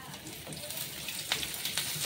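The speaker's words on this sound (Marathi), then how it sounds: "कांदा थोडासा भाजल्याच्या नंतर आपण तेल टाकून तेलामध्ये पण भाजून घेऊ आता तेल टाकून" Onion frying in oil in a pan for egg curry, a soft continuous sizzle with faint scraping stirs and small crackles, under quiet talk.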